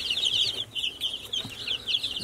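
Farm chickens, both laying hens and meat birds, cluck and chatter continuously in a flock, with overlapping short calls repeating at close range.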